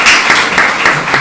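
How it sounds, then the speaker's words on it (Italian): A short, loud burst of audience applause from a business conference crowd, dense clapping with no speech. "Intanto ti facciamo un applauso."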